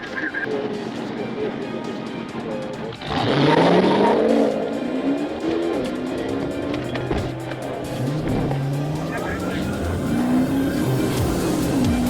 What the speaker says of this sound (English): Suddenly, he hit the gas and fled down the emergency lane.